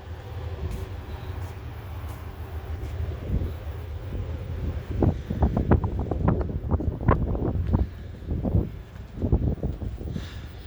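Steady wind buffets the microphone on the open Lido deck of the Carnival Splendor cruise ship, a constant rushing roar broken by bursts of heavier gusts, with no talking.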